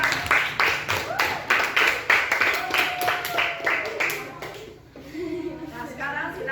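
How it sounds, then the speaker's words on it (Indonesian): Classroom applause for a student group: children clap in quick bursts while a teacher and pupils talk over it, with a few light chuckles, then the clapping fades into quieter chatter. "Ya, kasih tepuk tangan lagi untuk kelompok 3."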